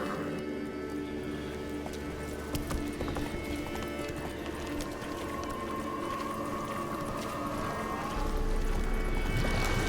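Roach the horse gallops in The Witcher 3, hooves clip-clopping in a steady rapid rhythm close by under a bed of game music and ambience.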